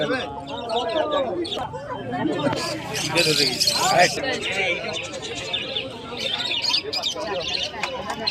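Pigeons at Baltala Hut, an outdoor bird market, chirp and twitter through a dense babble of people talking and bargaining nearby.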